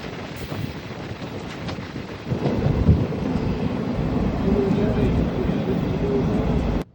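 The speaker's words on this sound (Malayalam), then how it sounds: "നമ്മൾ ഷൊർണൂർ റെയിൽവേ സ്റ്റേഷനിൽ എത്തിയിട്ടുണ്ട്." Shoranur railway station platform ambience at midday: a steady rumbling wash of rail and wind noise that grows louder partway through, with a faint low hum underneath and no clear voices.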